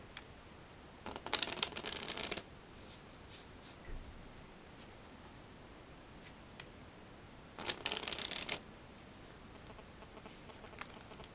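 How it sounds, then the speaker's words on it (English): Playing cards shuffled for a magic trick, two crisp riffling bursts a few seconds apart, close and quiet in a still room. "So let's shuffle the cards first."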